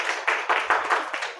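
Students in a classroom clap together in a short run of about six quick, fairly close handclaps.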